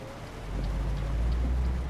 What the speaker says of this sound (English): So, nice weather in Cambridge here. Raining.